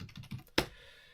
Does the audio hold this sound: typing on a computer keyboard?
yes